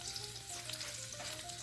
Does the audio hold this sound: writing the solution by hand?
no